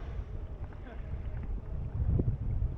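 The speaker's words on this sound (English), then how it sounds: "It's quite windy though. Really windy actually." Strong wind buffets the microphone while a kayak paddles through shallow water in an inlet. Low, rumbling gusts rise and fall continuously, growing heavier near the end.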